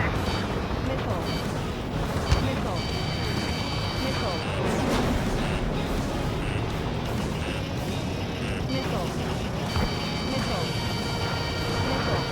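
Bombs exploding in the combat flight game Ace Combat 7, a dense barrage of booms and blasts layered over roaring jet engines and electronic warning tones, with radio voices talking throughout.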